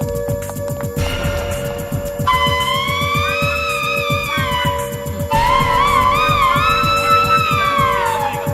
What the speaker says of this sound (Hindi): फॉल्स अलार्म था, हमने सब कुछ चेक कर लिया है